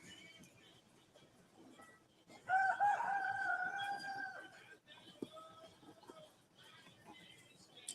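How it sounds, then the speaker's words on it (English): A rooster crows from inside its coop some distance away, one long clear crow drawn out over a couple of seconds against faint outdoor background. "The rooster sounds adorable."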